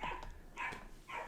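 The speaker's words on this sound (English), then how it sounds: "my dogs are barking at something." Dogs bark in three loud, sharp bursts about half a second apart, close by and with no talking over them.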